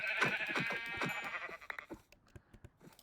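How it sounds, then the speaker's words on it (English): Sheep bleating in the video game Minecraft, a herd near a spruce biome giving repeated wavering bleats that overlap at first, then fade to a few fainter calls and clicks. "Oh my god, more sheep. A whole herd of these fucking things."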